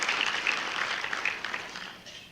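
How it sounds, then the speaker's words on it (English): Luncheon audience at a golf awards event gives a round of applause, a steady wash of many hands clapping that tapers off slightly toward the end, with no talk over it. "let's give the Principal Charity Classic and the staff a big round of applause"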